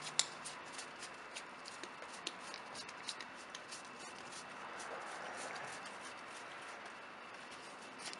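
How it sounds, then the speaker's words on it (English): Soft rustling and faint repeated card clicks as a deck of Smash Up cards is shuffled during a board game at a table, low and steady with no talk. "And then it says I have to shuffle my deck."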